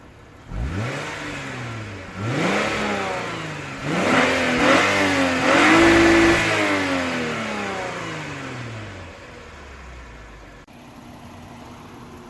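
A 2014 Lexus IS250 F Sport on its stock exhaust revs repeatedly, each blip climbing in pitch and falling back, building to a longer held rev before settling into a quiet idle, heard close and without talk.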